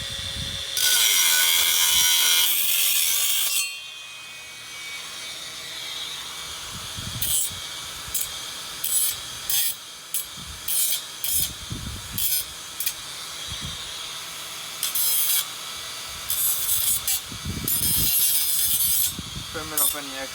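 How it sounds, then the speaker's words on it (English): A cutoff wheel grinds through metal pipe for a DIY ceiling pull-up bar: one long harsh hiss at first, then a run of short bursts of cutting with brief gaps between them. "I got a cutoff wheel. If you don't have that, you can use a handsaw. There's many ways to cut metal."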